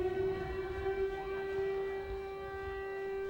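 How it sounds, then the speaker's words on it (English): A civil defense siren wails steadily in the distance during a high school boys soccer game, a sustained tone holding throughout, with no one speaking. "And that siren is not for Justin, but hopefully just a test"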